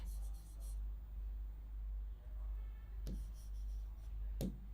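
Soft, faint scratches of writing on a board in a vocabulary classroom, with a couple of short taps and strokes. They sit over a low, steady room hum.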